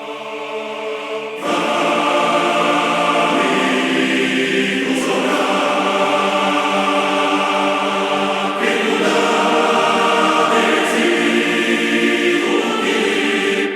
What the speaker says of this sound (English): It's really the male choir that we're hearing. The female choir is more of a support here,